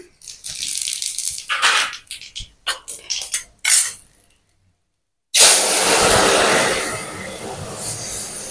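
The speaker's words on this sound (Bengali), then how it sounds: "গোটা জিরে ফোড়ন দিলাম," Whole cumin seeds and two pieces of dried red chilli go into hot oil to temper a bitter gourd curry. A few clattering knocks and a short silence give way to a sudden, loud, steady sizzle that fills the rest.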